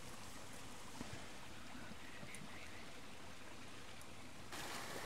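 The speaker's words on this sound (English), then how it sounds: "Now we got a good flow coming out of the little creek source where we want it." Steady water flow from a creek source through a gravity-fed off-grid pipe system, a constant broadband rushing that fills the whole stretch with no talk.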